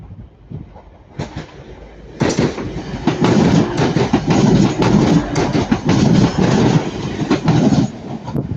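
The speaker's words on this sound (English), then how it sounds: "the Transpennine is coming this way. Should be the return of 185 145 again" A TransPennine Class 185 diesel unit passing through Ardwick, rising from a distant rumble to a loud, close roar with rhythmic clickety-clack of wheels over rail joints for several seconds.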